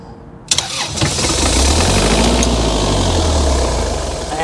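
Bus diesel engine started after its fuel filter was primed: a sudden loud crank at the start that catches into a steady, heavy, close-up rumbling idle.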